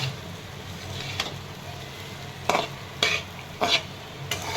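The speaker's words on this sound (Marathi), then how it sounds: "बारीक करून घेतलेले तुकडे आहेत चपातीचे ते टाकून घेता येईल असे मिक्स करून घेते" Chopped leftover chapati pieces mixed in a hot pan, a low background sizzle broken by several distinct spatula scrapes and stirs close up, no talking.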